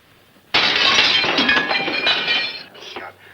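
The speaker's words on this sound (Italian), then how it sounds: "Ha sentito il vetro?" Glass shattering as a sound effect, a sudden loud crash of breaking glass followed by tinkling shards that fade out over a few seconds, heard alone.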